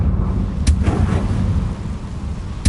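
Confringo fire spell in the Hogwarts Legacy video game, a booming blast followed by rolling rumble over a dense low roar, with another sharp crack at the end; loud and close, no talking.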